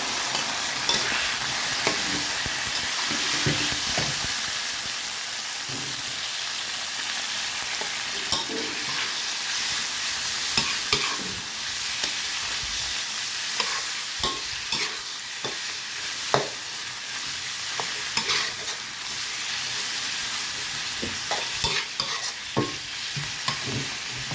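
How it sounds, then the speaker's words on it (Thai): Pork being stir-fried with chili paste and kaffir lime leaves in a hot pan, a steady loud sizzle with the scrape and clack of a spatula stirring throughout. "พอพริกเริ่มหอมก็ใส่หมูลงไปผัดเลยนะคะ"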